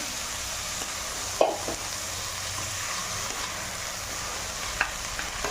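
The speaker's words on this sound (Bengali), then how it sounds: "এবারে চালটা দিয়ে দেবো, চাল একটু হাই ফ্লেমটা কম করে ভেজে নেব।" Gobindobhog rice fries over low flame in a pan along with raisins and cashews, a soft continuous sizzle broken by a few clinks and scrapes of a stirring spoon.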